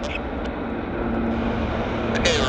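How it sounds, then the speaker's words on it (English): A WestJet airliner rolling out at Vancouver Airport: a distant, steady jet roar under a low background hum, faint and continuous, with a few brief clicks. "Bit of the rollout here on the WestJet."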